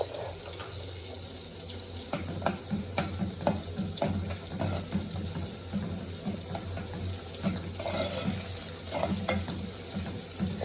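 Green chillies frying in hot oil for a chicken curry, a steady close sizzle with repeated scraping stirs from a spoon against the pan throughout, no talking.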